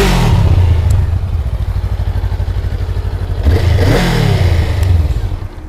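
A 2023 Honda Rebel 500 motorcycle fires up close by and settles into a throbbing, choppy idle, then is blipped into two sharp revs that rise and fall, with some mechanical clatter underneath.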